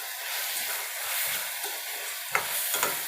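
Onion and green chilies sauté in a pan for tamarind-leaf chicken, giving a bright, hissing sizzle with a few scraping stir strokes near the end.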